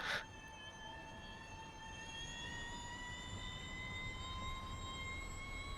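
A Porsche Mission R electric race car at Spa-Francorchamps gives off a steady, high, layered electric motor whine that holds evenly for several seconds over a low rumble of track noise.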